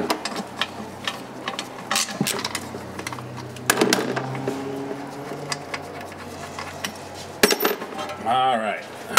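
Metal clanks, taps and scrapes as the oil pan comes off a GM automatic transmission on a Rolls-Royce Silver Cloud, with intermittent knocks of tools and a louder clatter near the end over faint shop background.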